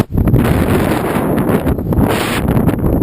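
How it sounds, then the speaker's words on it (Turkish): Strong wind at the ocean shore roars and buffets the microphone nonstop, a loud, rumbling gusty rush with no other clear sounds. "Rüzgar var biliyorum"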